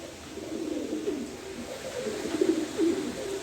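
Pigeons cooing close by, a soft low repeated rolling coo over faint background noise, with no talk.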